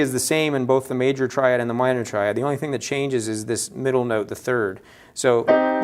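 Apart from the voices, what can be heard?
No distinct noise like a dog, phone or traffic.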